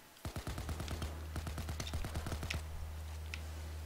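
Rapid bursts of automatic gunfire from the video game Payday 2, a dense string of sharp shots over a low steady hum, thinning out after a few seconds.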